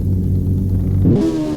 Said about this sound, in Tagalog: mabilis itong motor natin